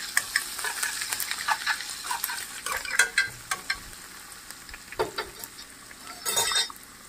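A handful of coriander stirred into softened sautéed onions in a pan, with a steady sizzle and repeated scraping, clicking strokes of a spoon, loud and close throughout.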